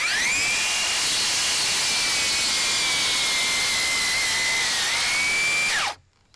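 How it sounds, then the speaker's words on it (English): A Ridgid Octane circular saw makes a plunge cut into wood, a loud, steady high-pitched whine that holds for about six seconds and then spins down sharply into silence. "Now, let's check out the Ridgid. We're going to do a plunge right now."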